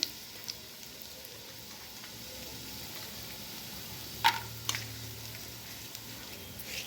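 Urad dal and peanuts frying in hot oil for lemon rice: a quiet, steady sizzle with a couple of sharp pops and a brief stir near the end, no talking.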